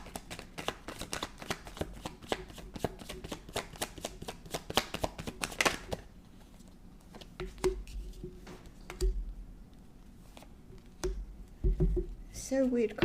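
A deck of tarot cards being shuffled by hand, with rapid riffling bursts for the first six seconds, then slower, softer handling and a few card snaps, with a voice talking underneath throughout.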